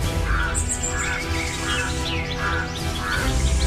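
Birds call and chirp among green trees beside the Koyileri river, repeated short calls recurring every second or so over a steady outdoor background.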